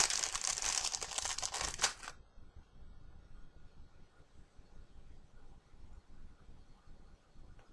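A small plastic packet holding polymer clay charms is torn open, with a loud burst of crinkling and rustling for about two seconds, then only faint handling noise and quiet room tone.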